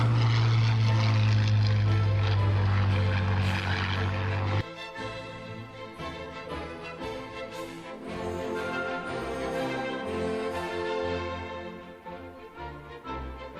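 World War I Gotha bomber propeller engines drone with a loud low throb that cuts off abruptly; fuller dramatic orchestral music then plays on its own.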